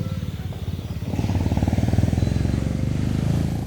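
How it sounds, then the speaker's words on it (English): A Honda GB350S single-cylinder motorcycle engine thumps along in a quick, even pulse, close and fairly loud, the beat firming up after the first second. "The bike is powered by a single-cylinder engine and it thumbs along beautifully."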